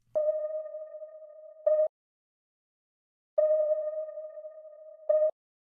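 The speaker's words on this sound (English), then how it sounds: "So I made a little rhythm here out of the beeps." Two long sustained electronic beeps pitched in D sharp, each ending in a brief accented repeat, separated by a gap of silence, with a soft reverb tail, clean and alone.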